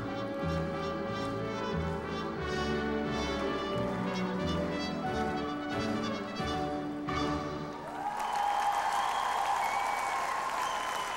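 Applause from an arena crowd after a junior ladies' figure skating free program, a broad steady clapping wash that swells and continues for several seconds, with music fading beneath.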